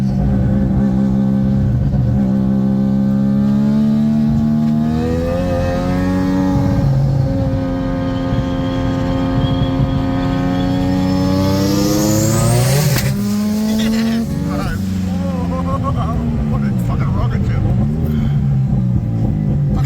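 A turbocharged Mazda RX3 with a 20B three-rotor engine revving loudly from inside the cabin, steady droning tone rising and falling in pitch over several long pulls, with a sharp high whoosh near the middle.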